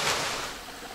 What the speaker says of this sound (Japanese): こちら滝が流れてます